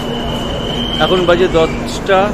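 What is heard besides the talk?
Doon Express passenger train running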